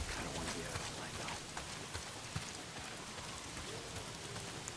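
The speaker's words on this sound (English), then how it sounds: "Well, not if it's pissing down rain." Heavy rain falls in the video game Days Gone, a dense continuous hiss of drops with scattered sharper patters, steady throughout at moderate level.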